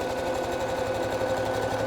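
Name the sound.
sewing machine stitching a camisole drawstring casing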